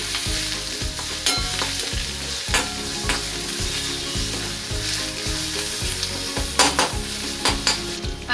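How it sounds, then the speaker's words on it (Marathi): A spoon stirs garlic-chili paste, crushed coriander and curry leaves through sizzling oil in a pan, scraping in a quick repeated rhythm over a constant close frying hiss, with a few sharper clinks. "त्याला व्यवस्थित आता तेलामध्ये मिक्स करून घेऊया।"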